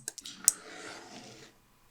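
An RFID reader placed too close to another one clicks on and off from interference: a few sharp, close clicks, then a short burst of soft rattling before it goes quiet.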